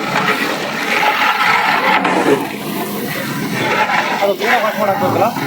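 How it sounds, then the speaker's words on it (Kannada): Loud, continuous pouring and sloshing of water over mutton being washed for a huge 200 kg batch of biryani, with voices faintly mixed underneath throughout. "ಈಗ ಮಟನ್ ತೊಳೆಯೋದಕ್ಕೆ ನೀರು ಹಾಕ್ತಿದ್ದಾರೆ"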